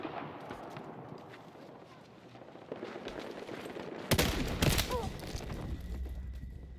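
Video game gunfire erupts abruptly after a quiet stretch of low rumble and faint background noise, a loud close burst of rapid shots followed by lingering echoes.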